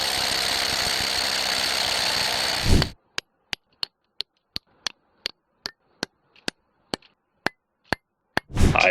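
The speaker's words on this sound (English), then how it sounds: "I'm gonna drill those same holes a little bit deeper" A loud, continuous grinding drill bores holes in rock at a sapphire digging site for a few seconds, stops, and a steady series of sharp ticks follows before the drilling starts up again.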